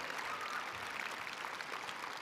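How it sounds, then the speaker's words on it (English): An audience at a state science and technology fair awards ceremony applauds, a faint, steady wash of clapping from a distant crowd with no voices over it. "So let's do one more round of applause."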